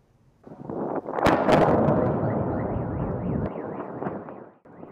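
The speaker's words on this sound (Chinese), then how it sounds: "爆炸声不绝于耳" Loud, sustained roaring blasts from a Russian drone and missile air strike in Ukraine, with a couple of sharp cracks near the start, rumbling on for several seconds before cutting off.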